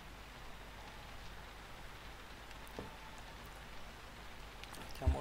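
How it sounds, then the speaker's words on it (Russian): Steady video game rain from P.T. patters softly and evenly, a light continuous hiss of drops with no voices, ending in a faint brief knock. "Дождик капает."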